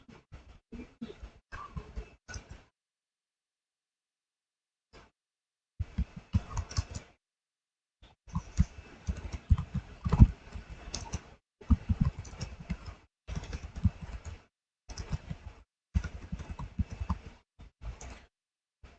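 Keys clatter on a computer keyboard in short, separate bursts of typing broken by silent gaps, close and fairly quiet, while text is entered in a Linux terminal editor.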